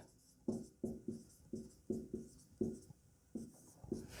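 Writing on a board during a Hindi-language lecture, about ten short strokes in an uneven rhythm, each a quick scratch that tails off, quiet and close with no talking.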